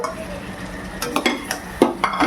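Chicken curry with two fried eggs being stirred in a pan, a few scraping, clinking strokes of a spoon against metal over a low background sizzle, close by and without talk.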